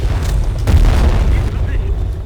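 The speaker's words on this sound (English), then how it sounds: "Bessie, destroy that APC." Explosion destroying an APC in Conflict: Global Storm, a loud deep boom with a rumbling low tail that stays heavy for about two seconds, with voices mixed in.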